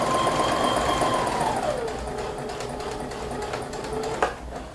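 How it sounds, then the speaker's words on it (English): A sewing machine stitches a seam joining two fabric squares, a fast steady whirring hum with rapid needle ticking, close and alone, slowing near the end before a sharp click. "Stitch until you're about 1 inch away from the edge."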